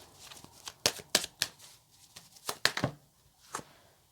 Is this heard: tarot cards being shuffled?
yes